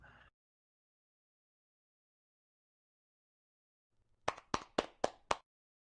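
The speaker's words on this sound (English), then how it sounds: "Applause all around." A short burst of five or six distinct hand claps near the end of an online presentation session, close and crisp, following a long stretch of silence.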